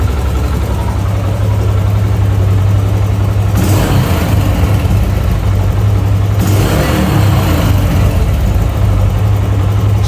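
A Yamaha YBR125 motorcycle engine running after carburetor mixture tuning, loud and close, holding a steady idle with two short throttle blips that rise and then settle back to idle RPM.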